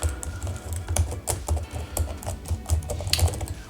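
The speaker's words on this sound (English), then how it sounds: "Let's check out the keyboard." Typing on an Alienware x15 R2 gaming laptop keyboard, a steady run of close, crisp clicking keystrokes with an even rhythm and no voices.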